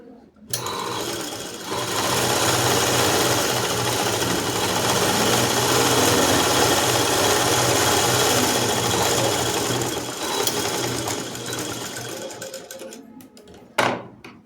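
A tailoring sewing machine stitches the side cuts of a dress top, a loud, close, continuous rapid whirring and clatter that runs steadily for most of the stretch before stopping near the end.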